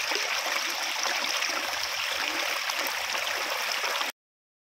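A natural spring at the Ramling temple in Gaganbawda flows with a steady, close, rushing and gurgling water sound that continues unbroken, then cuts off abruptly.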